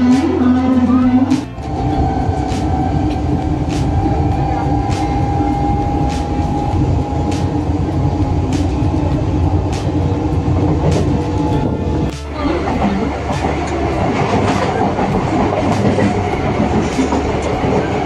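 A passenger train runs loudly on its rails during heavy rain, with a continuous rumble and a regular clickety-clack of wheels over rail joints. A brief dip in the roar comes midway before it resumes.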